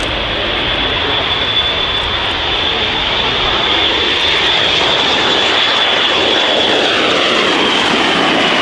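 An F-16 Viper jet fighter roars loudly overhead at the RIAT 2018 air show, a dense continuous engine blast with a high whine that stays strong from start to finish.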